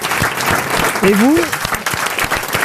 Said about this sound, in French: Vous pouvez applaudir Marc-Antoine Lebré